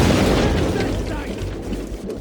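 Ship cannons in Assassin's Creed III fire a broadside at an enemy ship's bow. A heavy rolling boom opens loud, then decays into a rumbling, crackling tail, with game voices faintly underneath.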